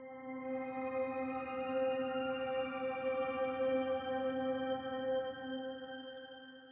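Contrition patch from the Memories Piano sample library by Musical Sampling, a sustained ethereal atmosphere of layered steady tones in the middle of the keyboard, swelling gently and fading slowly with no extra reverb added.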